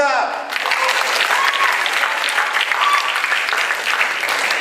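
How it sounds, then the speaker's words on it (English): Sustained audience applause for Oscar in a classroom or school-play setting, dense and steady, filling the whole stretch with a voice briefly audible at the start. "Big clap for Oscar!"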